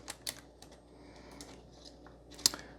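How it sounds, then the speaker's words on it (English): Small clicks and taps from disconnecting the keyboard ribbon on a Libretto laptop brought from Japan, a few sharp close-up clicks scattered over about three seconds with one louder snap near the end. "we'll go ahead and disconnect the keyboard"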